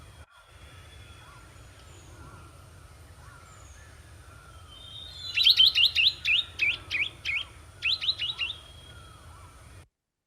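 A bird calls out in a quiet outdoor setting, a burst of sharp repeated chirps arriving in two clusters midway, loud and near against faint low background rumble.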